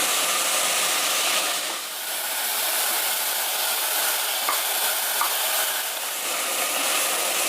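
Vegetables sauté in hot oil in a pan for a traditional Brahmin-style dish, a close, steady sizzle and hiss with light stirring throughout.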